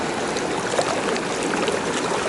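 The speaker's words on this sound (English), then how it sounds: "What a beautiful creek." Halfmoon Creek, a mountain stream near Leadville, Colorado, tumbles over rocks and through pools in a steady, close, broadband rush of water that carries on without a break and with no voices.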